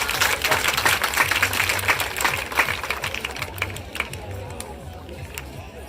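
Mixed hands clapping from a school audience at an academic excellence ceremony in a college hall, dense and lively at the start, then gradually thinning and fading with a low hum beneath.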